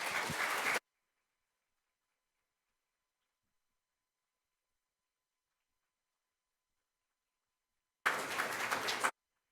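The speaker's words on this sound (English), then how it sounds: "join me in giving a round of applause to our panelists" Audience applause for panelists at an air and space event on women, peace and security: a short burst of clapping, then a long silence, then a second brief round of applause.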